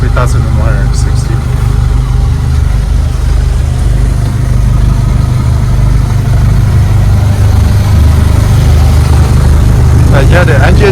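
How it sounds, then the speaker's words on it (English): The engines of a Bayliner 3288 boat idle with a steady, loud low rumble close by, running smoothly throughout while a person talks over it. "Yeah, the engine runs really smooth."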